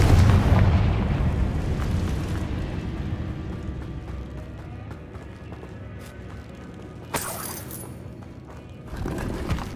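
A Confringo blast spell fired in Hogwarts Legacy lands as a loud, rumbling explosive burst at the start and fades into a low roar, with a sharper crack later and another surge near the end.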